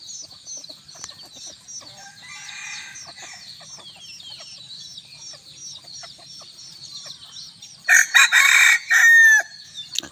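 A young bantam rooster, about a year old, crows repeatedly on a hot evening, its calls slightly distant, with a louder burst of crowing near the end.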